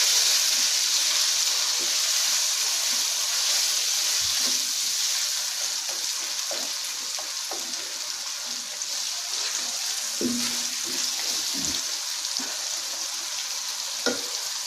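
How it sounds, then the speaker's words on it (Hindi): Chopped tomato stirred into masala frying in a pan for dal, with a steady bright sizzle and occasional soft scraping knocks of the spoon, close up, no talking. "अब हम इसमें ऐड करेंगे, इसको अच्छे से हिला लेंगे।"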